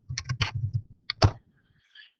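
Calculator buttons pressed to enter a fraction, a quick series of close, crisp plastic clicks in two short bursts, then quiet.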